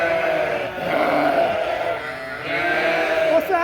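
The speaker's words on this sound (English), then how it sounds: "Nice bunch of sheep." A flock of sheep on a farm in cold weather, bleating repeatedly and loudly close by, with several overlapping calls forming a continuous chorus.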